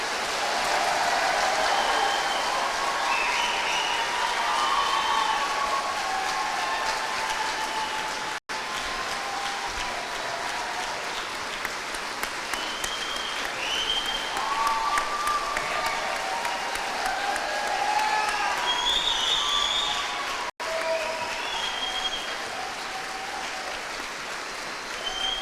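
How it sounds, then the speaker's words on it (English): A crowd at a military graduation applauds the graduating soldiers, a long, continuous, rain-like roar of clapping held at an even level throughout, with a few faint voices in the background. "Please give all of these deserving soldiers a round of applause."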